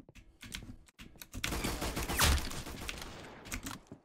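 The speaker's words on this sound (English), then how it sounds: "He tried to shoot you." Gunfire in the Roblox shooter Arsenal: a dense rattling burst of rapid automatic shots that peaks midway and then tapers off, with no voices.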